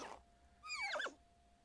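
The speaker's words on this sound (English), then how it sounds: "it just neighed. It was such a cute sound." A horse in The Sims 4 Horse Ranch video game gives a short, high whinny lasting about half a second, clear but soft against a quiet background.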